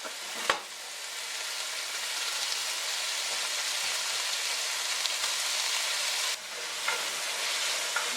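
Salted pork sizzles in a couple tablespoons of hot olive oil, a loud, steady crackle that runs without a break, with a sharp clack near the start and a brief dip where the pan is stirred.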